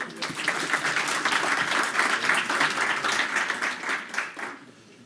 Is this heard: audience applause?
yes